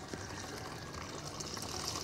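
Clean water poured into a small opening, a steady broadband trickle and splash running continuously at close range for the whole stretch, with no talk over it.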